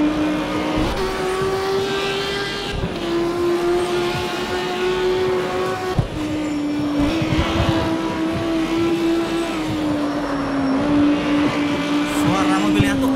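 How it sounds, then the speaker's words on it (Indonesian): Lamborghini in the CarX Street racing game gives a continuous high engine whine that shifts pitch as it revs, with tire squeal at points and speech layered over the engine. "Suara mobilnya tuh khas banget kalau Lambo."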